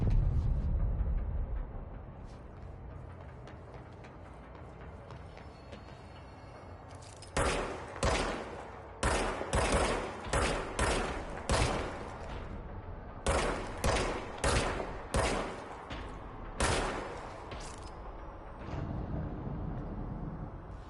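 Gunfire in the Control video game, a series of loud sharp shots in clustered bursts with brief pauses between them, after a quieter stretch of low rumbling ambience.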